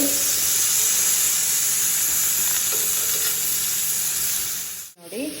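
Food frying in oil on a flat griddle pan, a steady loud sizzle running continuously until it cuts off sharply near the end.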